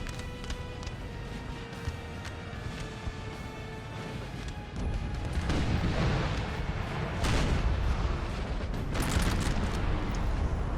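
Artillery fire during a Napoleon Total War battle on a Spanish mountain, with repeated booming cannon shots and crackling gunfire over a busy battle din that grows denser and louder partway through.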